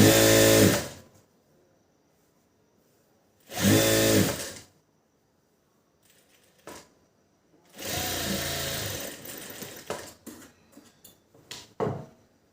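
A sewing machine stitches a blouse seam in several short, loud whirring bursts separated by silences, with a few brief mechanical clicks near the end.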